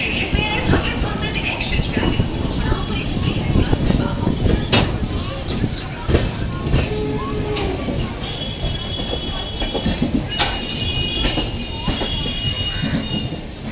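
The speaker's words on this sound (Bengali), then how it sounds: "ভুবনেশ্বর স্টেশন থেকে ট্রেন ছেড়ে দিয়েছে।" The Dhauli Express, train 12822 from Puri to Shalimar, rolls along just after leaving Bhubaneswar station, with a loud steady rumble, rhythmic wheel clatter and occasional metallic squeals heard from inside the coach while people talk.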